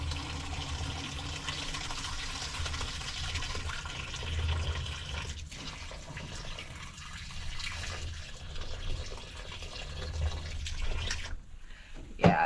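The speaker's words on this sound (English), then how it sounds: "I'm getting some water through" Water trickles from a partly frozen outdoor hose into a rabbit's water dish, a soft steady running and filling sound over a low background rumble, ending in a few small knocks.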